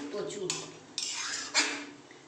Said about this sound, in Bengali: দেখুন ঢাকাটা খুলছি